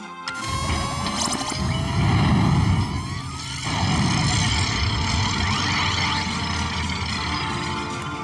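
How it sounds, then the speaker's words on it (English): Cartoon spaceship engines powering up: a loud, continuous mechanical roar with rising whistling tones that swells, dips briefly midway, then holds steady, alone without talk. "we're about to fire up the ship's engines"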